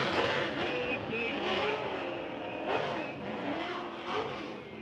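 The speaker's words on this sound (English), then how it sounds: "That car sounds incredible" A 650 wheel-horsepower OB30 Nissan 240SX drift car at a drifting qualifying event roars loudly with a rising and falling engine rev, and tire noise runs underneath.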